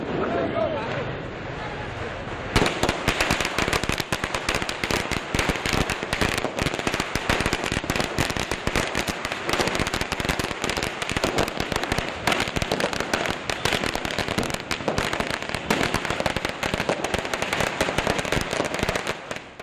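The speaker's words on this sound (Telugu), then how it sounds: "ఇవి కాల్చినప్పుడు లేదా పేల్చినప్పుడు రంగురంగుల కాంతితో పాటు భయంకరమైన శబ్దం వస్తుంది." Firecrackers and fireworks burst in a dense, loud, nonstop crackling barrage that erupts after a quieter opening and keeps going to the end.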